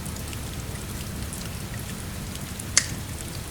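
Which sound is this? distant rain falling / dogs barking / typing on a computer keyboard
distant rain falling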